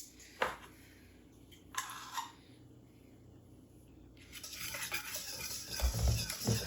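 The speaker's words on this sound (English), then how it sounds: "I'm mixing this together" Bread batter for chocolate zucchini bread being stirred with a utensil in a bowl, soft scraping and occasional clinks, quiet at first and growing busier and louder toward the end.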